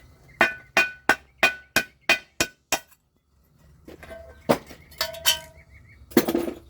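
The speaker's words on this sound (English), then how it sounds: "or hit it with a hammer" A hammer strikes scrap metal seven times in an even rhythm, sharp ringing clanks up close, then after a pause more scattered metallic knocks and a clatter.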